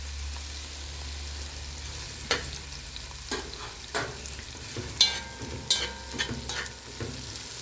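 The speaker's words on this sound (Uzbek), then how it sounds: "Mana shunday qilib birinchi piyozni solamiz qozonga" Onion sizzles and fries in a cauldron-style pot, a soft continuous hiss punctuated by a series of scraping stirs and clatters from a utensil, fairly quiet and close.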